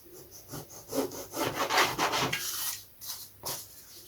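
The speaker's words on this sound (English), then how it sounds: "to cut it, I'm going to use my balsa saw to get the bulk out" A small balsa saw cuts through wood in quick back-and-forth rasping strokes, close and moderately loud, pausing briefly before a couple more strokes.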